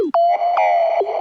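A small FM sine-wave synth tone from Ableton Operator in a dubstep track, a bright pitched note that bends and sustains with echoed repeats, loud and alone for just over a second.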